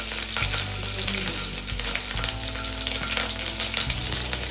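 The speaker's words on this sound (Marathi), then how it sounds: "हे बघा आता ह्याला आहे ना आपण मस्तपैकी फ्राय करणार आहोत." Green chillies fry in a little oil in a hot kadhai, giving a constant, close crackling sizzle that stays loud and even throughout, with no voices.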